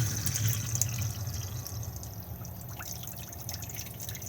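Water running steadily from the sink tap in a Swift Challenger 544 caravan, a close, soft continuous trickle and splash with no talk.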